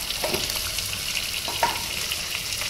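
Turmeric tipped into hot oil for a chickpea curry, a steady close sizzle of frying with light stirring scrapes and a couple of brief louder crackles, no voices.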